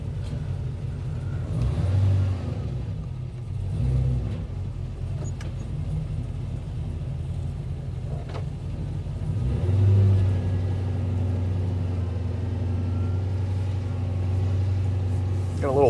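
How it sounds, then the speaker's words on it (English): A 1968 Chevy with a swapped LS V8 idles steadily while its power steering pump lets out a thin, constant whine over the low engine rumble, with a voice talking faintly nearby. "Got a little whiny power steering pump out here."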